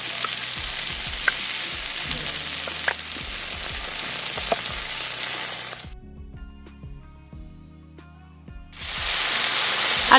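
Chili chicken frying in a pan with chili sauce and soy sauce, a loud steady sizzle with stirring scrapes, dropping out briefly near the middle and then returning strongly.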